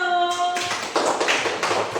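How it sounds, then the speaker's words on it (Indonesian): Students in a classroom clap for a group that just finished presenting; after a brief tonal sound, a dense, even burst of hand clapping fills the room and carries on steadily. "tepuk tangan dulu buat kelompok 1"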